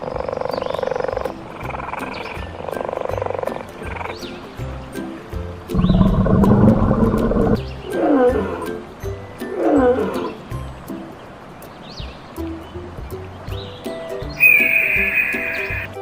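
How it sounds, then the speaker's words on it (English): Cheetah-like roars and growls in a children's animal animation, a run of loud guttural calls amid a busy animated soundtrack, with other animal cries mixed in and a high chirp near the end. "Cheetah."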